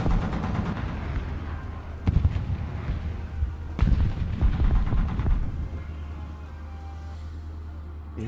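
Booming explosions in the War Thunder tank battle game, two heavy blasts a couple of seconds apart over a steady low rumble of engine and battle noise, loud and close with a fading tail.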